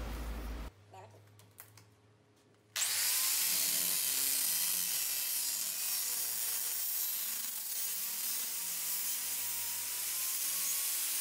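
An H7 LED headlight bulb for a VW Saveiro Trend is clamped and its neck cut off: after a few quiet seconds of small handling clicks, a loud, steady, harsh grinding hiss starts and holds without a break.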